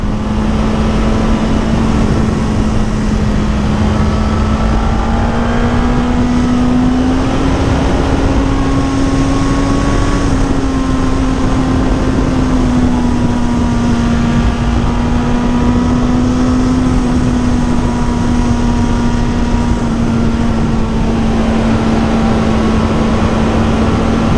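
A Suzuki GSX-S1000 naked motorcycle engine drones loudly and steadily for the whole stretch, its pitch climbing slightly and then easing as the rider accelerates, with heavy wind rush and no talking.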